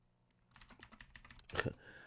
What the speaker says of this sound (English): I'm typing in all type of weird stuff.